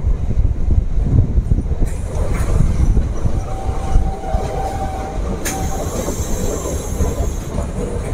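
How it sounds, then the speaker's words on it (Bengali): A MEMU passenger train pulls into a platform at Azimganj Junction, loud and close, with rumbling wheels, rattling carriages and a sustained squeal of braking wheels, plus brief sharp clanks. "আমাদের ট্রেন এসে পৌঁছেছে 6 নম্বর প্ল্যাটফর্মে।"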